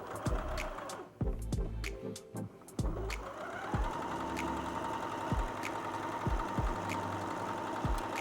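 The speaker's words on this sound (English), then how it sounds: "I'm going to go ahead and sew a 1/2-inch seam allowance." A sewing machine stitching a half-inch seam on fabric for a bias scarf, with a steady fast mechanical whir and rhythmic needle thumps, briefly stopping and restarting, heard up close.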